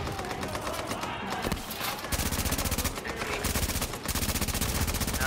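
Enemy LMG light machine gun fire in The Division, loud sustained automatic bursts with rapid regular cracks, starting after a short pause and continuing in long strings, with other scattered shots around.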